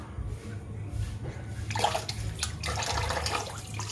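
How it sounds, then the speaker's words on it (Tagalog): Beef skin being rinsed and squeezed in water for a cooked cowhide salad, with steady splashing and running water close by. "Hugasan naman ulit at tubig."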